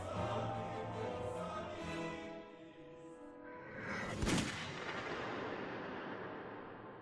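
A single heavy gunshot booms out within a murder-mystery adventure game, a sharp broadband burst midway through that rings out over a steady layer of ambient game sound, loud and close.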